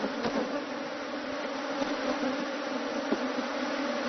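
A swarm of honeybees around a bee handler drones in a steady, close, continuous buzz that holds at an even level throughout, with no talking.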